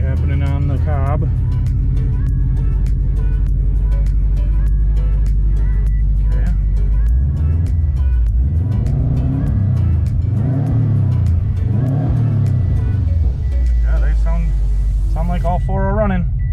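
Subaru engine idles close and steady after new ignition coils are fitted, with a few revs swelling and easing back while someone talks nearby.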